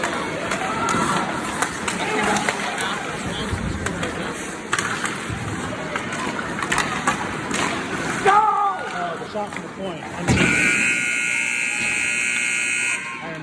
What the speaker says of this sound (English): So the buzzer will sound.